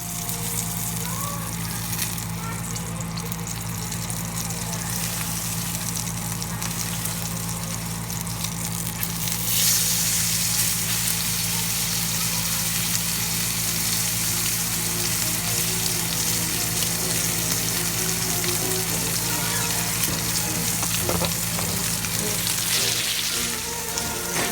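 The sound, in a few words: dry aged rib eye steak fat searing in cast iron skillet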